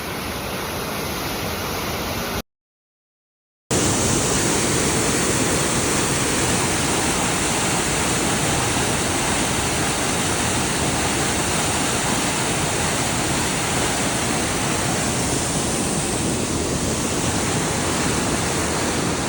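A river swollen by heavy rainfall at Rancho Sierra Vista roars loudly and steadily at close range, a dense unbroken rush briefly cut off once near the start, with no voices.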